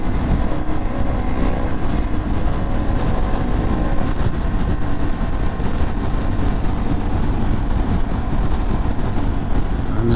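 A Honda Transalp XL750 motorcycle engine runs steadily at speed in third gear around 4,000 to 5,000 RPM, a loud continuous drone mixed with heavy wind rush and no breaks.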